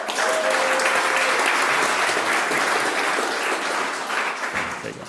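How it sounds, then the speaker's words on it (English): An audience at a student pitch event gives a student team steady, dense applause that fills the room for several seconds before fading slightly at the end. "Team 1, give them an applause."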